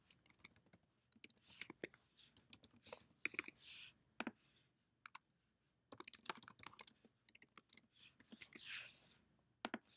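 Quiet, close keystrokes rattle in irregular bursts on a computer keyboard, mixed with mouse clicks and short pauses of near silence, as values are entered into an API test form.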